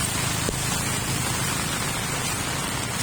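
Heavy rain falls steadily during flooding in a residential area, a dense, even hiss of drops hitting surfaces that continues unbroken, close and loud, with no one talking.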